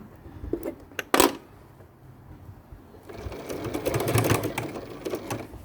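A sewing machine stitches a fabric seam without basting, first in a few short clattering bursts, then in a longer run of rapid, close mechanical whirring and ticking.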